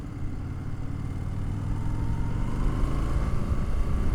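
Low, steady engine rumble from a 2025 Indian Super Scout Limited motorcycle, building gradually in loudness as the rider rolls on a little throttle, with no talk over it.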